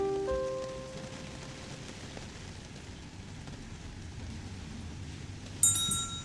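Steady rain patters on a surface throughout, a dense even hiss with a few faint tones early on and a brief louder splash near the end; no voices.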